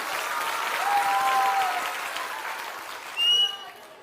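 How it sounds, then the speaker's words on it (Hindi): A crowd at an outdoor political gathering in rural Bihar gives loud, dense applause to welcome Prashant Kishor, with a shrill whistle rising near the end. "इनको एक बार जोरदार ताली बजाइए"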